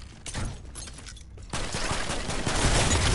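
Egg launcher in a video game fires, producing a burst of muffled, rapid blasts that swell into a dense, loud volley of booming impacts toward the end, with no voices over it.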